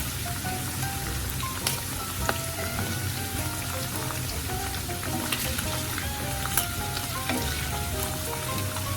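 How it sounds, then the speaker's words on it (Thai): Pork belly frying in oil with a steady, dense crackling sizzle and scattered sharper pops of splattering oil, continuous and close throughout with no talking. "น้ำมันอาจจะมีกระเด็นบ้างนิดหน่อยค่ะนิดเดียวจริง"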